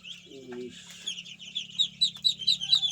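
Young Chinese ducklings being released into a house give repeated high chirping peeps, growing busier and louder toward the end, over a steady low background hum.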